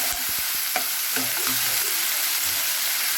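Tomatoes with salt cooking in a pan for a bitter gourd curry, a steady sizzling hiss broken by several quick knocks and scrapes of a spatula early on, close up with no voices.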